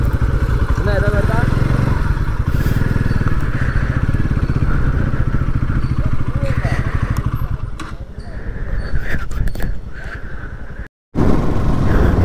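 Motorcycle engine running close by on a road near a waterfall in the hills, a loud steady idle with clattering texture and a brief cut near the end, someone talking over it.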